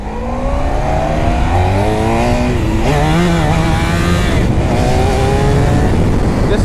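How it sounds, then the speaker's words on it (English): A 2010 Honda VFR1200F sport touring motorcycle riding with its engine loud and close, pitch rising and falling as it revs through gears, with steady wind and road roar underneath throughout. "this is a sport touring bike, and this has got to be one of the coolest sport touring bikes"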